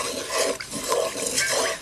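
Cooled salted water for homemade salted eggs stirred in a pot, soft swirling and light scraping of a utensil against the container, close and continuous with no voices.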